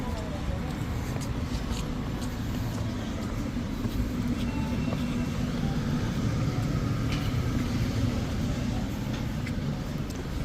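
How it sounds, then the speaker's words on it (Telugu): Inside a city bus riding through Gangnam, Seoul, a steady low engine and road rumble drones continuously, with people talking over it and faint rattles now and then. "ఈ బస్సు ఎక్కుతున్నాం ఇప్పుడు ప్రజెంట్"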